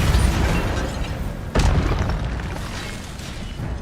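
Incendio fire spell cast in Hogwarts Legacy, a sharp whooshing burst of flame erupting mid-clip over a steady roaring, crackling fire bed, loud and full.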